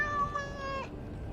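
A cat meows once in the video game Dragon Age Awakening, a clear, close, tonal call with a rising then falling pitch, heard alone without talk.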